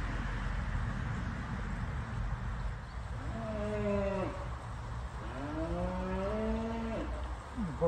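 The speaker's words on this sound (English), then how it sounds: "Probably hear the cows across the road." Cows moo twice in the distance across a road, long low calls rising and falling, over a steady background rush of a flowing UK river.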